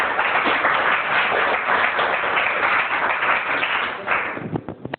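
An audience applauds a guest speaker at a school prize distribution ceremony, a dense, steady wash of many hands clapping that carries on loudly before thinning into a few scattered claps at the end.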